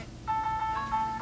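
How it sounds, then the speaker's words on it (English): A mobile phone rings once with a short, bright electronic tone pattern, faint and alone, lasting about a second. "Somebody's calling me."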